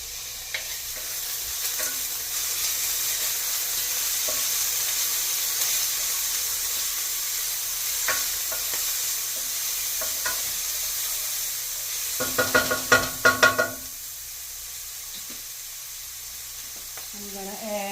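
Minced garlic and dried thyme fry in a pan with a continuous hissing sizzle, broken by occasional scrapes and a burst of clattering stirring near the end, close up with no talking.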